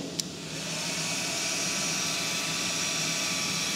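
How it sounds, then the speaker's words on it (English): A hair dryer on low setting, powered by a portable power station, blows with a steady, even whoosh and hum close by, starting after a small click and holding constant throughout. "Now I'm gonna put this hair dryer on low."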